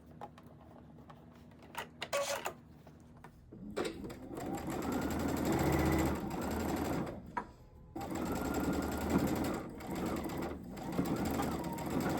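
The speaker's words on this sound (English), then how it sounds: "It's just straight stitching our pre-cut blocks all together." A sewing machine runs in long continuous bursts, straight-stitching pre-cut quilt blocks together for a heart mug block, starting after a few soft clicks and handling sounds and pausing briefly twice.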